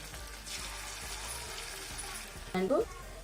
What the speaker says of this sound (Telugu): ఇప్పుడు మనము పన్నీర్ 65ను ఫ్రై చేసుకుందాం. ఒక్కొక్క పీసెస్గా మనము వేసుకోవాలండి.